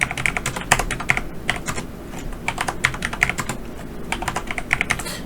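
Fast typing on a computer keyboard, a steady stream of close, crisp key clicks with occasional heavier strokes, alone with no voices.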